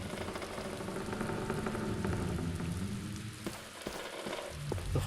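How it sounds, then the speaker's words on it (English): Rain and cold wind coming through a hole in a broken window in the Black Mirror video game, a dense steady patter and rush with a low rumble that dips briefly near the end. "The hole in the window lets cold wind and rain enter the room."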